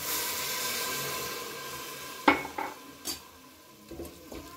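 A spoon stirs pav bhaji vegetables in a pot, giving several distinct metallic clanks and scrapes over a low, quiet background hiss.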